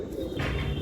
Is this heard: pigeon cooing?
yes